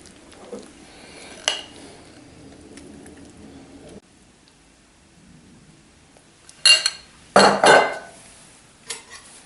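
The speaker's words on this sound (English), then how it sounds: "Once that's all mixed in, transfer it to a bowl for presentation." Spinach dip scraped and spooned into a serving bowl: soft scraping early, then a few sharp clinks and clatters of a utensil against the bowl near the end, close and fairly loud.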